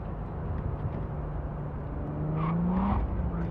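Steady engine hum and road rumble of a car driven in the video game Cyberpunk 2077, holding a constant drone with a rising engine tone toward the end; no talk.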